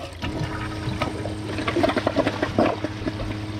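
A Kohler Highline Class 5 toilet flushes with a loud rushing swirl of water and gurgling drain noise, close up and alone, lasting the full few seconds.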